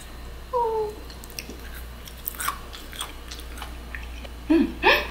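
Soft, close crunching and biting from someone eating an edible flower, a few brief irregular bites over quiet room noise with faint vocal sounds.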